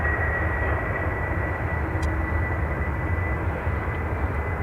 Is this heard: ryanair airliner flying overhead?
yes